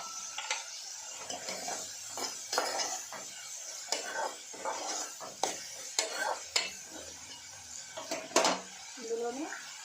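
Ginger garlic paste being added and stirred in a pan for a village-style egg curry, with steady scraping and clinking of a spoon against the pan, soft sizzling underneath, and a voice talking over it.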